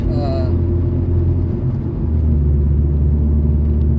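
A Ford Focus SVT with a 3-inch exhaust and glass pack drones steadily at cruise, a low continuous rumble with a brief high whine early on and no talk over it.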